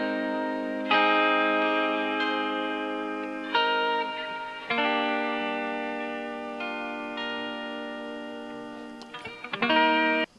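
A tempo-synced 70s-style music sample plays with bright, echoing chord stabs and sustained tones that decay between hits, several phrases in a loose rhythm ending in a quick flurry; no talking.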